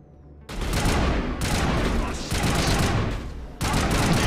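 Video game gunfire blasts out in loud, dense bursts, a rapid volley of shots after a brief quiet start, broken by short gaps and resuming hard, close and forceful throughout.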